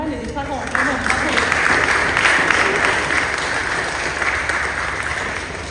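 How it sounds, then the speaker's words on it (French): A church congregation at a Protestant Easter Sunday service in Mertzwiller applauds the parents, the clapping swelling quickly and holding steady at a fairly loud level with no talk on top. "Je crois qu'on peut applaudir les parents marraines et les parents."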